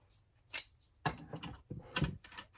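A universal wrench turning a metric bolt on a Rollsizer casefeeder, a few quiet ratcheting metallic clicks and scrapes in short bursts, close up.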